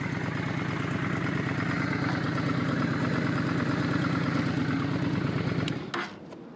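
A 2007 Honda Shadow 600 motorcycle idles steadily up close, its even low rumble holding for about six seconds before cutting off abruptly near the end.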